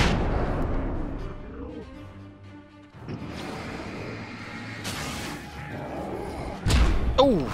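A flashbang grenade goes off in a shooter video game, with sharp booming blasts and thuds among other game noises and a heavy bang near the end.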